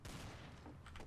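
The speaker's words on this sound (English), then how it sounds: "someone's shooting" Gunfire in the video game Trouble in Terrorist Town, a dense burst of shots filling the short moment, loud and continuous with no talk over it.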